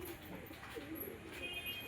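Small, restless Beldanga pigeons coo softly near a handler, a low murmuring burble that recurs through a steady background with faint high tones.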